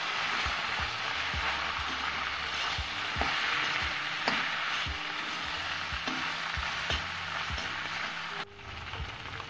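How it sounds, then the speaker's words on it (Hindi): Macaroni being stirred into cabbage fried on high flame, a loud continuous sizzle with regular scraping knocks of a spoon against the pan, dropping off near the end. "अब इसमें हम डालेंगे माइक्रोनी। और इसको भी अच्छे से मिला लेंगे।"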